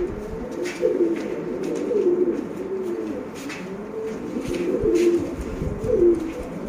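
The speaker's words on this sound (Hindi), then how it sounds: "ये जनाब आपका जोड़ा आ रहा है मास्टर अब्दुल्ला वाले कबूतर।" Pigeons coo nearby in soft, rolling repeated calls, several phrases spaced a second or so apart, over a quiet background.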